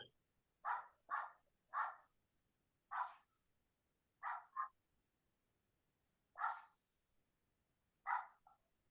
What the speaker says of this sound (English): there's the dog. It never fails.